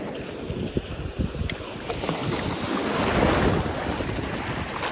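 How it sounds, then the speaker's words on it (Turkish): Waves washing against a shallow rocky shore during evening light-tackle fishing for sargo, steady rolling surf with gusts of wind buffeting the microphone, fairly close and continuous. "Ama dalga var işte."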